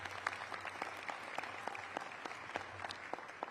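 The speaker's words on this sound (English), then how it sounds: "Let's give Latrina a round of applause." An audience at a Washington DC press event applauds, giving faint, sparse, scattered claps from a small gathering with no talk over them.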